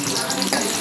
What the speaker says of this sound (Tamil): வடைசட்டி வச்சு கொஞ்சம் தாளிக்க சின்ன வெங்காயம் கருவேப்பிலை போட்டு